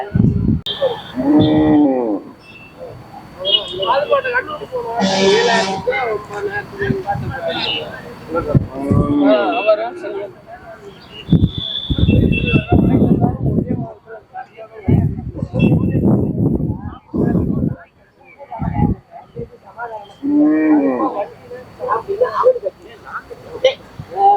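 Kangayam cows and bulls at a busy cattle market in Kannapuram, with repeated loud moos and lowing, both near and farther off, mixed with crowd chatter and people talking throughout.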